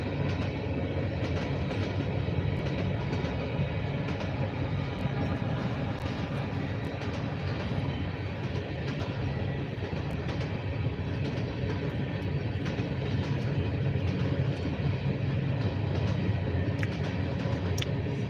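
CSX and Norfolk Southern freight trains pass through Erie, Pennsylvania, giving off a steady, continuous rumble and clatter of rail cars that holds unbroken at a constant level with no voices.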